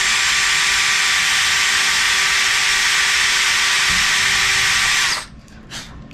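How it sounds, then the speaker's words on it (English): A drill bores a hole in a control horn for a VQ Model U.S. Navy F6F Hellcat model plane, the part held in pliers, giving a loud, steady close-up whine for about five seconds before cutting off into light handling noise. "get the drill in the hole."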